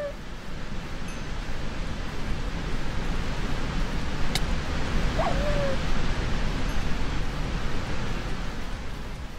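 Water pouring down everywhere in a forest within a video game, a steady broadband rushing wash like heavy rain filling the scene evenly, with a few faint game sounds over it.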